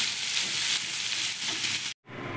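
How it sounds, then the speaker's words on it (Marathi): Potato pieces frying in hot oil for a Marathi potato and soybean curry give a steady, close hiss of sizzling that cuts off abruptly near the end, then resumes at a lower level. "मग बटाटाही आता आपण तळून घेऊया. बटाटा थोडा लालसर होतो तळायचा."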